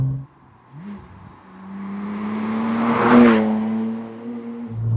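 A Porsche Cayman 987 converted to a 4.1-litre flat-six with an aftermarket exhaust, heard from outside, idles, then revs up to a loud, rasping peak and falls back toward idle.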